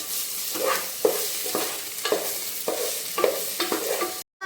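Green chillies are stirred into Nethalu curry frying in a pan, with a spoon scraping in repeated strokes over a steady sizzle. The sound is close and alone, then cuts out at the end.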